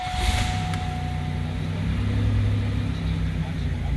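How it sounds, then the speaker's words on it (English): A 1993 Buick Park Avenue V6 engine idles with a steady low rumble and hum, close by, continuous throughout; a faint tone fades early on. "let's fire it up."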